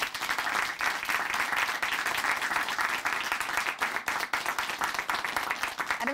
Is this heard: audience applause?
yes